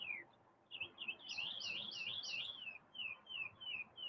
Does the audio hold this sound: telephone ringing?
no